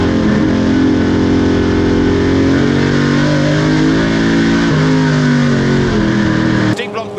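Racing saloon cars, including a Triumph Dolomite Sprint, in the Gerry Marshall Sprint at Goodwood SpeedWeek, with loud, sustained engine roar and rising and falling revs, then an abrupt cut near the end, under a commentator's voice.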